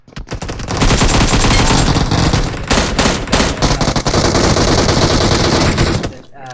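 Automatic gunfire from an AK rifle in a battle royale video game, loud sustained bursts of rapid shots lasting several seconds, close and dense, fading out at the end.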